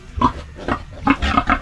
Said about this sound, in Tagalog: ito na yung biik natin